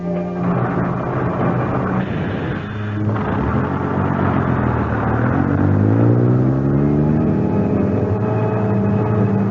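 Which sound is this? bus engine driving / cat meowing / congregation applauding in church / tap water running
bus engine driving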